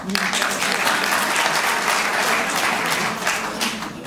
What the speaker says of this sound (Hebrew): אפשר למחוא לו כפיים